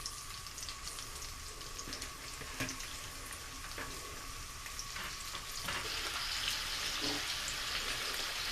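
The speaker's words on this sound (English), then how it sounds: "I'm going to let it fry for about 10 minutes or until it's nice and brown" Fish and andouille sausage frying for seafood gumbo, giving a steady close sizzle with occasional sharper pops and light stirring clinks that grow slightly louder toward the end, with no voices.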